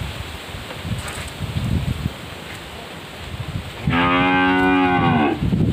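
Cattle on a farm selling cows in Phu Yen, Vietnam, in a herd of six- to seven-month-old animals: a single loud, drawn-out moo near the end, close by, over rustling outdoor noise and faint wind.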